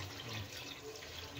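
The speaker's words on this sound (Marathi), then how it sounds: "आता आपण पाणी घालूया" Water being poured into a pan of spice masala fried in oil for egg tahari, a steady, soft, continuous splashing rush without pauses.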